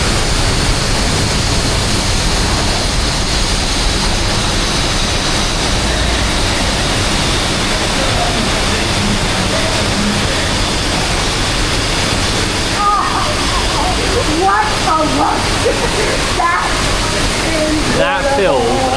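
In a theme-park ride's canyon scene at Disneyland Paris Studio Park, rushing water pours continuously in a loud, dense roar. A few splashy surges come near the end, and people talk over it.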